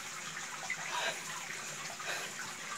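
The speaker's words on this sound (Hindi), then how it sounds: "और अंदर से पानी बह रही है" Water flowing out from inside a small cave, a faint continuous hiss and gurgle of running water with no voices.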